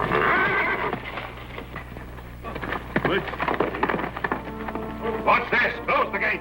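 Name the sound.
horse neighing and hooves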